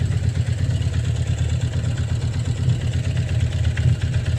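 Warmed-up engine idling out of gear with a steady low rumble and a faint, continuous bearing-like clatter riding on top, close and alone without talk.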